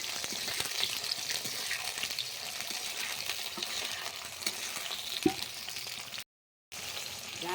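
Onion, capsicum and tomato fry in hot oil with sugar for chilli soya, a continuous close sizzle with light stirring clicks and a brief dropout near the end, no speech.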